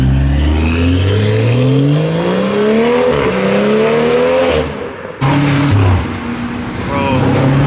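A BMW M340i fitted with a downpipe accelerates hard, its engine note rising loud and close through the gears with a brief drop between shifts, while people talk over it.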